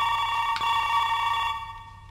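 A phone rings with a steady electronic tone, close and clear, fading slightly toward the end, with no talk over it.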